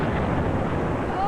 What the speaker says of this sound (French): Bruit de tonnerre et d'explosion.